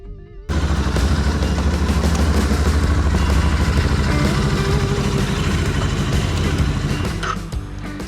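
A Royal Enfield Himalayan custom-built motorcycle engine starts up after a brief quiet moment and runs loud and close at a steady, busy idle with mechanical clatter, easing down slightly near the end.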